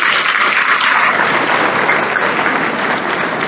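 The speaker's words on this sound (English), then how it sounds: "Let's give them another big hand of applause." Loud, sustained applause fills a banquet hall at an awards dinner, a dense continuous roar of many hands clapping that holds steady throughout with no speech.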